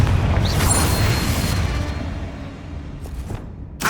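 A spell explosion in Hogwarts Legacy erupts as a heavy, loud boom with a crackling burst that then fades into a rumbling tail, ending with a brief sharper hit.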